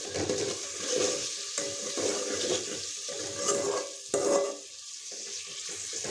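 Tomatoes and spices cook in a pan with a steady close sizzle and bubbling, broken by several scraping stirs that briefly swell louder.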